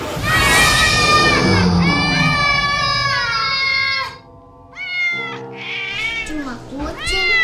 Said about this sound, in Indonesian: Cuma kucing.